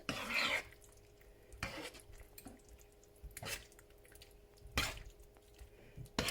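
Tomato tortellini with spinach, mushrooms and homemade cheese sauce tossed in a pan: a few sharp, wet clattering bursts from the pan, separated by quieter stretches of faint sizzling and squishing.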